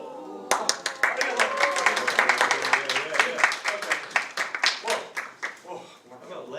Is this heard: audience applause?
yes